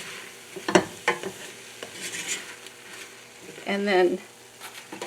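Vegetables for a chili cooking and being stirred in a pan with vegetable broth: soft sizzling and scraping stirs with a few utensil knocks against the pan, close up, and someone speaks briefly toward the end.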